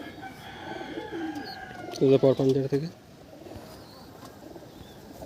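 Pigeons coo in a loft of high-quality native Bengali pigeons, one close burst of repeated coos standing out briefly midway over a steady background of other birds, with someone talking throughout.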